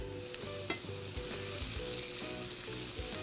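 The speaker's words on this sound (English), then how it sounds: "We are going to add some butter." Butter sizzling and frying in a pan with sweet potatoes and onions, a steady close crackle with soft stirring scrapes and no voices.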